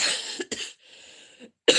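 A few sharp, raspy coughs in quick succession, close to the microphone, with a brief breathy pause between them.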